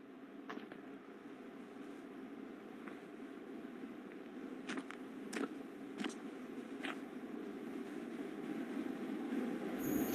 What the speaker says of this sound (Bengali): আরে ট্রেন আসছে ওই যে